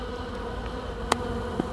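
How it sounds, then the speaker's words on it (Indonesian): A Trigona stingless bee colony kept in a home yard hums in a steady, low buzz throughout, with two brief brighter bursts standing out near the middle and end. "Kita dengarkan dengungan koloni selanjutnya, bagaimana aktivitasnya"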